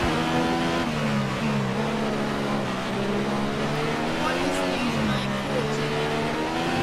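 Formula 1 race car engine in the F1 2015 game at the USA circuit, loud and continuous, revving up and down through gear changes with a high harmonic whine throughout.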